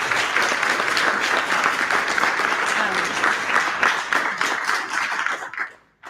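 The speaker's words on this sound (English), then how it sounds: "Can we all give Dr. Dearman a big round of applause" A room full of listeners gives a university talk loud, sustained applause, dense and even throughout before cutting off abruptly at the end.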